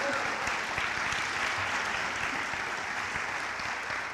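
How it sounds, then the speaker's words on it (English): At an alumni reunion awards ceremony, the audience breaks into sustained, dense applause, an even wash of many hands clapping throughout. "You can clap for that."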